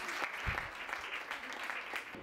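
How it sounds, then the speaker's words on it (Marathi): An audience claps together for a collage at a Janmashtami gathering, a dense burst of applause filling the whole short moment at moderate loudness. "सो आपण कोलाजसाठी टाळ्या वाजवूया."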